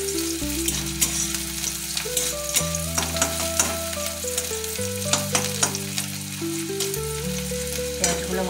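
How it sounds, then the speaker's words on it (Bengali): Onions frying in a pan for Bengali aloo posto give a steady crackle with sharp stirring clicks, heard beneath prominent background music. "পেঁয়াজগুলো ভাজা হয়ে গেছে"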